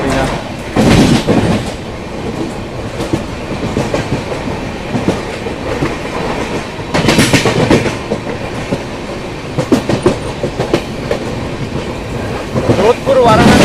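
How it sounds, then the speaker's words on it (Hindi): Samporna Kranti Express passenger train running between New Delhi and Kanpur, heard from on board as a steady loud rumble with rhythmic clickety-clack of wheels over rail joints, plus a few louder passing surges, with occasional speech in the background. "ट्रेन बीच में कहीं रुकती नहीं, नई दिल्ली से कानपुर के बीच में"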